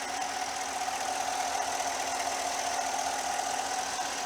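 A 2015 GMC Yukon XL Denali's 6.2L V8, rated at about 425 horsepower, runs at an even idle with a steady mechanical hum and faint ticking, close and without voices.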